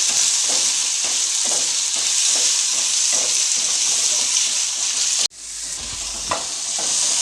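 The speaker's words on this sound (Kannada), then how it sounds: "ಇದೆಲ್ಲವನ್ನು ಚೆನ್ನಾಗಿ ಫ್ರೈ ಮಾಡ್ಕೋಬೇಕು ಗ್ಯಾಸ್ನ ಮೀಡಿಯಮ್ ಫ್ಲೇಮ್ ಫ್ಲೇಮಲ್ಲಿ ಇಟ್ಕೊಂಡು ಫ್ರೈ ಮಾಡಿಕೊಳ್ಳಿ" Garlic frying in a pan over a medium gas flame, a steady loud sizzle with rhythmic stirring scrapes, then a sudden drop and quieter crackle near the end.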